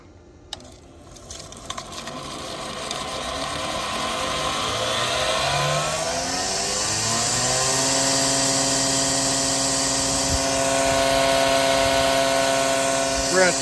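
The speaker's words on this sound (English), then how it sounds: "Let's see if we can handle the grinder." An angle grinder powered by an EcoFlow River 2 Pro power station starts with clicks, then whines up to speed and runs steadily, loud and close, with someone speaking over it.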